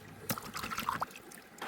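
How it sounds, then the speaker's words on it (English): Water trickles and splashes while washing clay and mud off bedrock during gold prospecting, a faint, uneven flow with a few brief splashes close by. "So you got to wash it off so you can release the gold and pan it out."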